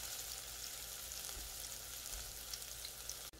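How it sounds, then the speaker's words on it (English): Ginger frying in a pan for kichadi, a steady close crackling sizzle that carries on evenly throughout, with faint pops and a brief stir clatter near the end. "Now that my ginger is cooking"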